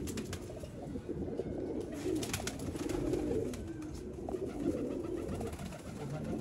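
Steady cooing from a shy pigeon, soft low rolling coos repeating close by over a murmur of other birds, with no voices.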